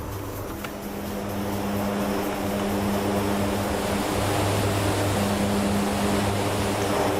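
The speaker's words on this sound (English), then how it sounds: "C-130J Hercules." A C-130J Hercules turboprop drones steadily in flight, its propellers giving a constant low hum with a broad rushing wash of air, loud and unbroken throughout.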